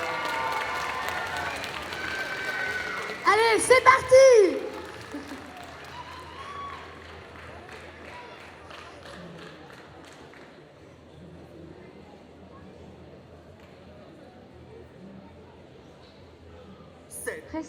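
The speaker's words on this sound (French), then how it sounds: "applaudissez-les bien fort." Audience at a Carolo Game Show 2022 cosplay parade applauding and cheering as a Genshin Impact team takes the stage, a brief loud burst of claps and shouts under an announcer's voice, then a long, softer crowd murmur.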